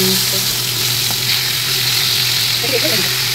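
Hilsa, rohu and catla fish heads fry in hot oil, a loud, steady sizzle throughout, with a few stirring clatters and a voice talking over it.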